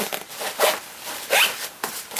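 Several quick, close zips as a zipper opens on a Kelty Redwing 3100 panel-loading backpack, coming as short, bright pulls in a row with no talk.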